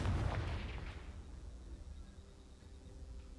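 A loud, booming blast from the Confringo fire spell in the video game Hogwarts Legacy, bursting at once and then rumbling away over a few seconds.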